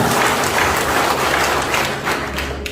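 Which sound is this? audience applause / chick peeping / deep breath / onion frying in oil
audience applause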